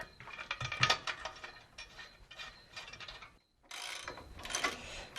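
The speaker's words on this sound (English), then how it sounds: "Now we're going to install the extruded U-nuts from bag HB C1466 SKD skid" Extruded U-nuts are being fitted to hold a truck's front skid plate during a 7-inch lift install on a 2014–2018 Silverado, giving quiet metallic clicks and ratcheting clinks in irregular bursts with a short pause midway.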